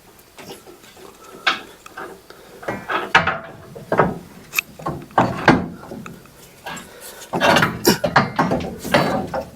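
A ratchet with a 9/16 socket working on the front suspension of a 1967 Chevelle during a lowering-spring install, giving bursts of rapid clicking strokes close to the mic with clunks of metal between them.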